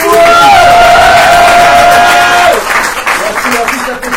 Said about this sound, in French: applaudissements, bien sûr